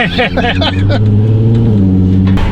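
A Nissan R32 drives along with loose cargo in the back, its engine a steady, loud drone throughout with rattling mixed in. A voice seems to sound briefly near the start.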